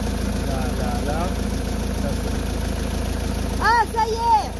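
A car engine turns over and settles into a steady idle, a constant low rumble held throughout, while voices briefly chatter over it near the end.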